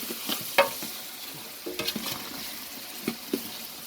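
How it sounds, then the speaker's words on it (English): A spoon stirs anchovies and garlic frying in oil in a pot, soft scraping and clinks over a quiet, steady sizzle, with a few sharper knocks against the pot. "I'm going to give this a good stir and begin to let those anchovies melt down"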